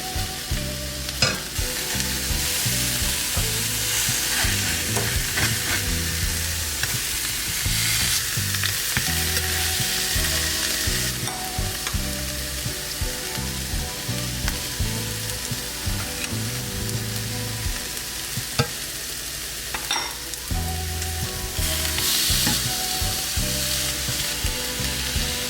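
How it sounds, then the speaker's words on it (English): Vegan food sears in a hot pan with a loud, steady sizzle lasting throughout, broken by frequent clatters of stirring and utensil scrapes; no one speaks. "you want to cook each side for roughly about 3 minutes so you can get a nice little sear on each side"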